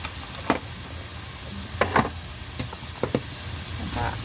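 Pumpkin curry with soy sauce, seasoning powder and sugar being stirred in a pan, with a soft background sizzle and a few scattered scrapes and knocks of the spatula against the pan.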